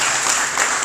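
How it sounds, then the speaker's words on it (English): A brief stretch of dense audience applause at a startup demo day, continuous and fairly loud, many hands clapping together with no gaps. "A big round of applause."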